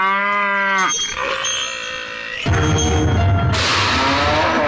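A Jersey cow gives a single clear, close moo at the start, followed by rustling and other farmyard noise.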